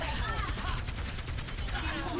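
Rapid video-game gunfire in a chaotic multiplayer shooter match, dense continuous bursts layered under excited player talk throughout.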